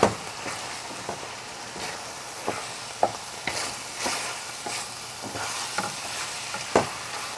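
Ground beef with salt, pepper and cumin gets stirred in a frying pan, giving a soft sizzle with repeated scraping knocks of the utensil, close by.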